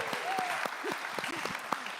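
Studio audience at a live award ceremony for a Cadillac CTS-V and classic Corvette giveaway claps for the grand prize winner, a short, fairly quiet burst of scattered clapping with whistles and voices mixed in.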